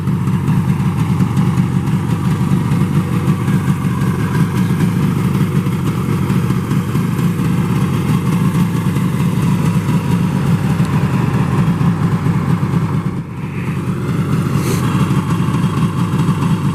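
A 1967 Yamaha YR1 Grand Prix motorcycle engine idles steadily and loudly up close, with an even rumbling two-stroke burble that barely dips once near the end.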